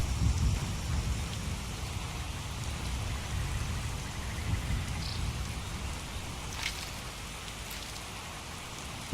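Steady rain falls in the video game Skyrim, a constant close hiss of drops with a low distant rumble of thunder. It plays alone with no talking.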